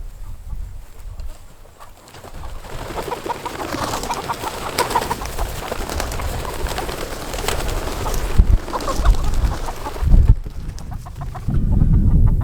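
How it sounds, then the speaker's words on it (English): Chickens cluck and murmur steadily at close range as they are let out of their coop, with other birds chirping, and a few bumps and rustles near the end. No one speaks. "Let's go ahead and let the chickens out"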